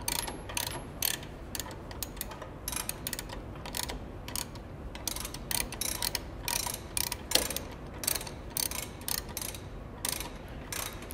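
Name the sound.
adjusting screw being turned on a belt trainer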